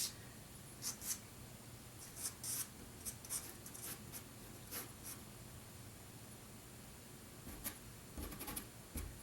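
Soft, faint scratchy strokes of a Rembrandt pastel stick pressed and flicked across paper in short bursts separated by quiet pauses, close up.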